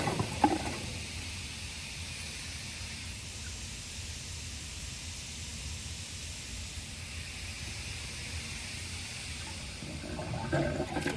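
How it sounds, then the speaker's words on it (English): Water fills a tank in a vacuum siphon float system as a steady, even hiss and rush, continuous and moderately loud, with a few small splashes near the start and end. "Now we're going to let this tank continue to fill up, and it's going to overflow here at the screen."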